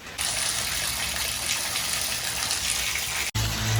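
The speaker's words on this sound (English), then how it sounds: "I'm going to fill up my tub with some water" Water gushes steadily from a tap into a bathtub in an apartment, a loud continuous rushing fill that briefly cuts out near the end before resuming with a lower, fuller tone.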